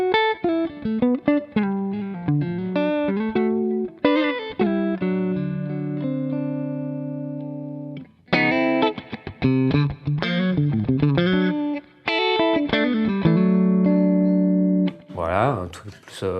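Twangy electric guitar played through an AmS The One 50 amp with light reverb, on the neck pickup, with plucked single notes and ringing chords in phrases separated by short pauses, close and clear.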